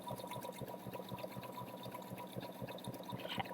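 Sewing machine stitching a t-shirt seam, a quick regular chatter of needle strokes running close and fairly soft across a few seconds.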